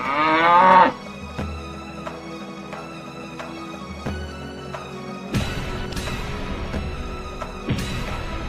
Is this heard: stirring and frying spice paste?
no